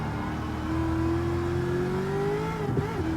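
Race car engine in Gran Turismo 7 holding a sustained high rev, its pitch slowly rising then dipping near the end, loud and continuous with no talking.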